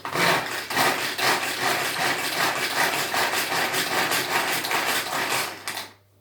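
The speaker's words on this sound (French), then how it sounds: "On va hacher dans le Turbo Top une échalote." Rapid rhythmic whirring and chopping as a shallot is cut in a Turbo Top pull-cord hand chopper, about a dozen quick strokes in steady succession, close and fairly loud, then stopping abruptly.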